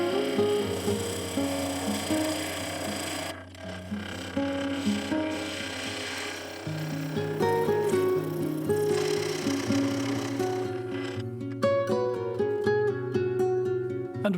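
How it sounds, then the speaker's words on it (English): A bowl gouge cuts a segmented wood bowl blank on a lathe, giving a continuous scraping, rasping cut with steady tonal hum from the spinning machine and shifting pitch as the tool moves. "Then I switched to the bowl gouge to bring the base perpendicular to the side of the blank."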